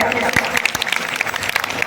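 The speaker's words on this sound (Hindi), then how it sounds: "जोरदार तालियां" A crowd claps at a school Independence Day event in India, a burst of applause with a voice speaking over it.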